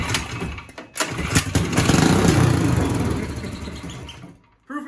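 A small 420cc go-kart engine runs loudly with a rough, steady drone for about four seconds, then cuts out briefly before restarting.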